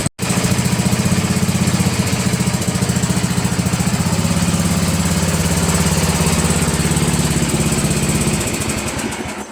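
MTD Cub Cadet riding mower with its engine running, a loud steady chugging putter close by that holds evenly and tapers slightly at the end.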